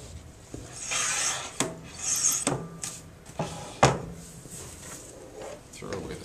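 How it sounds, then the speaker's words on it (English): A handheld trimmer shaving tiny curly scraps off the edges of a photo mat, a series of short rasping scrapes at an uneven pace with a few sharp knocks, close up, under occasional talk. "You can shave off little tiny fine edges with this trimmer."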